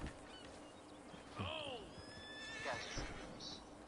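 A horse in a video game gives a loud, clear whinny with a falling pitch, followed shortly by a second call, over steady background game sound.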